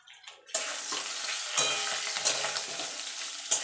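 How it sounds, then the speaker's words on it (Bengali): Green chili and ginger paste, pounded in a mortar, hitting hot oil with fried potatoes and stirred, a sudden loud sizzle bursting in after a quiet start and continuing steadily with scraping stirs, close up. "কাঁচা লঙ্কা আদাটা একটু কাঁচা গন্ধ যাওয়া পর্যন্ত একটুখানি নাড়াচাড়া করে নেব"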